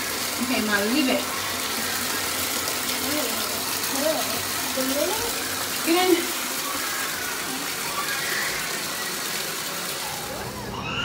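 Effervescent tablet fizzing after being dropped into water, a steady close hiss running throughout while a child's and an adult's voices talk and exclaim over it.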